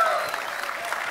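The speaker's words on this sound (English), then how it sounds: "Where's the round of applause?" A conference audience at Bitcoin 2022 applauds, a brief burst of dense clapping from a large crowd, filling the moment evenly before fading slightly.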